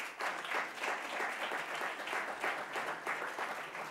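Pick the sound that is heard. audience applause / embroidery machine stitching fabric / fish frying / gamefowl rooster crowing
audience applause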